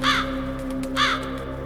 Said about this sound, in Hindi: अचानक से कौवे की आवाज़ हमको आती है